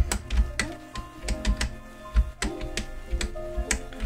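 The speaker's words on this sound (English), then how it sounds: "I just have a really noisy keyboard." A noisy computer keyboard clacks loudly and close during game play, with irregular bursts of sharp key taps and heavier thumps that have no voices over them.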